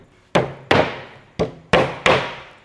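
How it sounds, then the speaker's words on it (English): Five sharp hammer blows drive steel T-nuts into plywood uprights for a vehicle drawer system, each hit loud and close with a woody ring that decays quickly, spaced irregularly about a third to two-thirds of a second apart. "grab your hammer, and just smash a couple T-nuts in."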